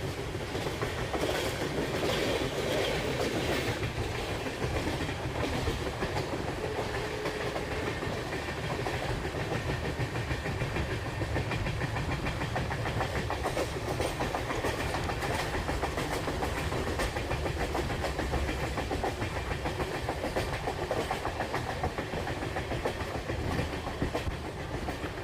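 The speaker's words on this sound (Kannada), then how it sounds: "ಹೊರಟಿದೆ ನಮ್ಮ ಟ್ರೈನ್ ಕ್ಯಾಸ್ಟಲ್ ರಾಕಿಂದ." A passenger train on the Madgaon to Hubballi line pulls away from Castle Rock station, its cars rumbling steadily with rhythmic clickety-clack over the rails, loud and continuous for the whole stretch.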